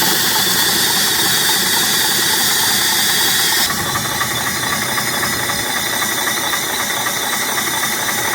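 An old, abandoned International bulldozer engine runs roughly and fails to rev, a loud, close, uneven knocking chug that drops slightly in pitch partway through and keeps lumbering on.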